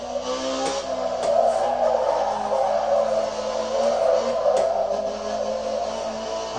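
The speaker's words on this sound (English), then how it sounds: "Having fun, get a little oversteer." Tires squeal in a long, loud, continuous skid on a racing simulator as the car oversteers into a drift, with engine tone running beneath.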